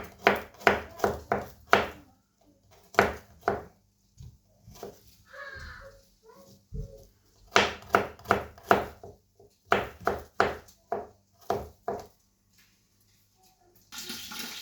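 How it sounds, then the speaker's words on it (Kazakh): A knife chops garlic on a cutting board during preparation of a Kazakh sheep-tail fat dish. Close, crisp strokes come in quick bursts of several hits, separated by short pauses, with no talking. "Енді чесногымызды турап болдық."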